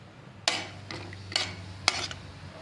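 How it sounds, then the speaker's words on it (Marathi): Chopped almonds roasting in melted ghee in a kadai, four quick sizzling, scraping stirs about half a second apart, close and moderately loud over a low hum. "मी ड्रायफ्रूट्स घालते कट केलेले बदाम। त्यात थोडंसं भाजून घेऊ, तुपामध्ये रोस्ट करून घेऊ याला।"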